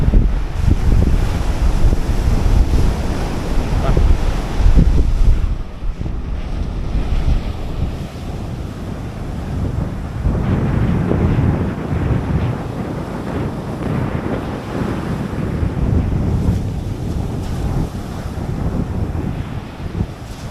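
Ocean surf and strong wind at Marina Beach, Chennai, with steady waves rolling and breaking and gusts buffeting the microphone throughout, loud and continuous with no voices.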